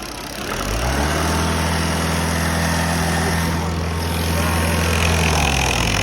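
A car engine idles steadily while powering an air compressor, a low droning hum with a firm, even pitch that holds for several seconds at close range without speech.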